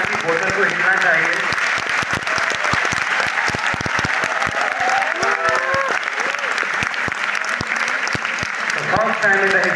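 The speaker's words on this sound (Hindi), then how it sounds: "आपकी तालियों से टेबल पर रखी बोतल को हिलना चाहिए." A packed audience at a university award ceremony claps loudly and continuously, the dense applause carrying scattered shouts and voices over nearly ten seconds.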